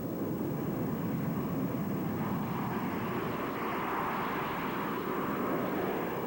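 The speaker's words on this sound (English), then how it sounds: "The Marines currently fly the AV-8B Harrier" An AV-8B Harrier jump jet flies, heard as a faint, steady, broad roar that stays fairly even from start to finish, with no voices.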